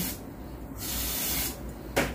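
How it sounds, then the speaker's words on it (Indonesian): Chief Clipper Pro spray misted onto hair clipper blades in two longer bursts followed by a short final puff, close and hissy, with no talking. "Jadi setelah kita gunakan, kita semprotkan Clipper Pro ini."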